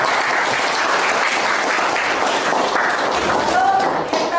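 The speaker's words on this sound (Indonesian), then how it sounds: "Tepuk tangan." Students in a classroom give loud, continuous applause lasting several seconds, dense and close, with a few thuds mixed in.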